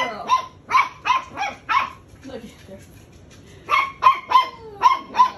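Young dog barking, eight-week-old puppies, with a rapid series of sharp barks, a brief pause of softer whimpering, then another run of loud, close barks.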